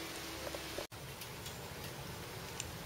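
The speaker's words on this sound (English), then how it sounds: "And it's raining again." Rain falling outside, a soft and distant steady patter heard from indoors with a few faint ticks, briefly interrupted by a short drop-out near the start.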